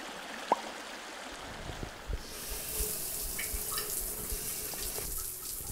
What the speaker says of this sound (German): Ich lasse das Wasser so lang rinnen, bis es aus ist.